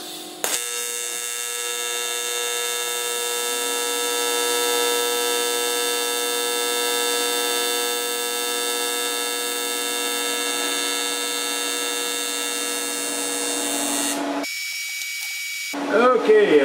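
A Miller Dynasty 300 TIG welder holds a steady arc, giving a sustained, even electric buzz and hum that runs unbroken for about fourteen seconds before it cuts off, with a brief noisy burst at the end.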